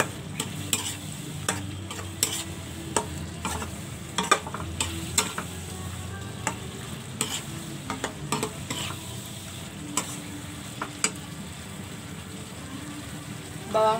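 Tofu stirred in a frying pan, with green onion added, gives a steady low sizzle under repeated sharp scrapes and clicks of the utensil against the pan, spaced irregularly throughout.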